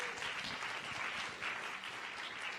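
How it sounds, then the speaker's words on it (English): Seated attendees at a financial education session applaud in a dense, steady wash of clapping that holds evenly throughout, moderately loud and without voices. "Give a round of applause to all of you for coming here and investing in yourselves."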